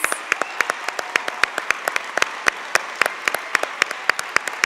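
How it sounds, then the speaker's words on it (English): Audience applause at a school district recognition night, a steady wash of many hands clapping with sharp individual claps popping through, sustained and fairly loud throughout with no talking. "Let's give another round of applause"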